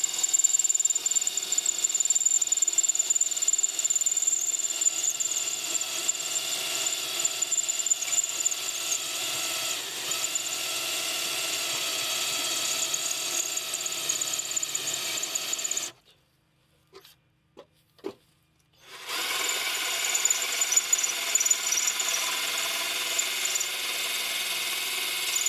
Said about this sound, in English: start drilling.